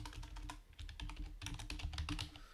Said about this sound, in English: So now let's type the other one, copy paste.